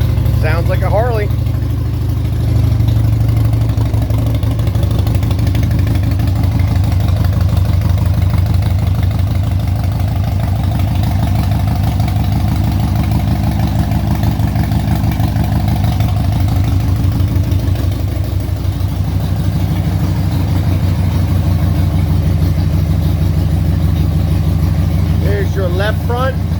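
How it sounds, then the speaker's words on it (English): A 1994 Harley-Davidson Softail Custom motorcycle engine idles loudly and close, a steady low, loping rumble that holds throughout, with brief voices at the start and end. "Sounds like a Harley."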